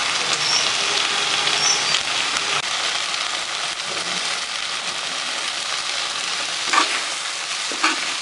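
Stuffed okra roasting in an open pan sizzles steadily while a utensil stirs and scrapes through it, with a couple of sharper clanks near the end and no voices.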